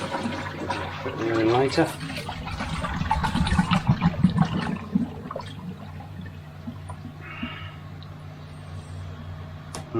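Water runs and fills an EasyPod in a bunker filterhouse, a steady trickling flow heard close by beneath a man's speech, fading to a quieter wash after a few seconds.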